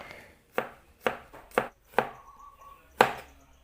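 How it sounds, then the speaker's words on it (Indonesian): Garlic being thinly sliced with a knife on a cutting board, six distinct close chops at an uneven pace with short pauses between strokes. "Bawang putihnya juga sama, diiris tipis."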